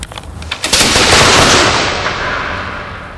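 A matchlock musket fires, its priming powder in the pan igniting the main charge to send off the ball: a loud, broad blast that swells and rolls away over about three seconds, with no voices.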